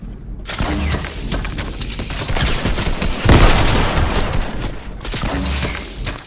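Video game gunfire sounds as loud, dense rapid bursts of shots with a heavier blast partway through, continuous and close, with no speech.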